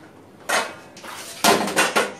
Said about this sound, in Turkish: Evet, bulaşıkları da böyle düzdüm.